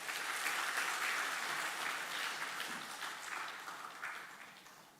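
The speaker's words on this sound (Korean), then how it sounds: "우리 축하의 박수 부탁드립니다." Congregation applauding in a church during a Sunday morning worship service, a steady, dense wash of clapping throughout that slowly thins toward the end, with no talk over it.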